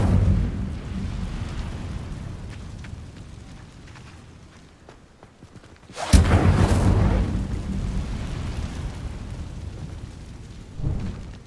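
The Incendio fire spell is cast in the Hogwarts Legacy video game, a sudden loud whooshing burst that erupts midway over a low rumbling backdrop, then rolls on before another smaller flare.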